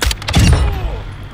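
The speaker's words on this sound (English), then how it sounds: "Let me snipe them with the silencer and..." Silenced sniper rifle shots in the Call of Duty DMZ video game: a couple of muffled, close thumps in quick succession, followed by a low, fading boom with no talking.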